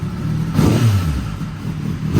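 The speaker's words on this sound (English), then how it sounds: "the bike's going through an auto rev cycle" Kawasaki ZX10R Gen 5 motorcycle engine runs an automatic rev cycle, rising in a quick loud swell and then settling back to a steady close idle.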